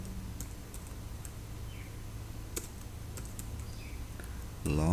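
Someone types on a computer keyboard in a quiet room, giving a few soft, scattered key clicks over a low steady hum.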